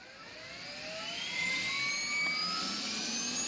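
Apache helicopter turbine spooling up in the game DayZ, a rising whine climbing steadily in pitch and growing louder over a few seconds, heard alone.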